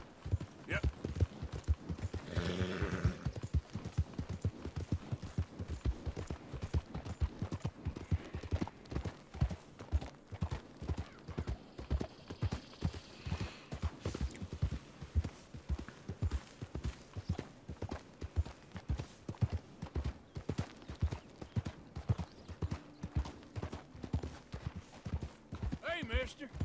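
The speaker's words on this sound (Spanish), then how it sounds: "Me encanta el andar a caballo" Horse hoofbeats while riding in Red Dead Redemption 2, a steady, rhythmic clip-clop at a brisk gait continuing throughout, with occasional speech and tack sounds underneath.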